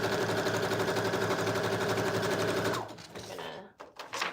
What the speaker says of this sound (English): I'm gonna sew down this little middle seam